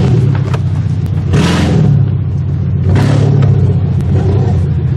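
A loud Subaru boxer engine in an all-wheel-drive demolition derby car, low on gas, revving hard twice in quick bursts over a constant heavy rumble.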